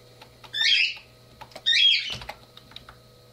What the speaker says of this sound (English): My birds are noisy.